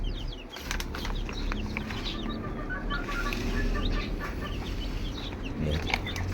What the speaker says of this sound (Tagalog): Ayan, yung mga sisiw natin. Ito mga Rhode Island, no?